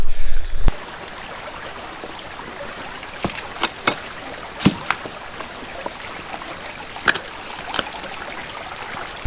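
River water runs in a steady, soft wash throughout, with a louder splash near the start and scattered sharp knocks and taps over the flow, as if stones are being moved on the streambed during gold prospecting.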